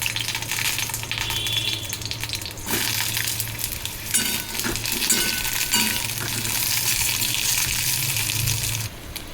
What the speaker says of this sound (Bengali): কড়াইতে তেল দিয়ে প্রথমে আলুগুলো কষে নেবো